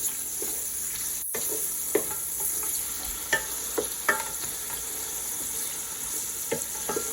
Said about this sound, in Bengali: তো এখন আমি এগুলোকে নাড়াবো।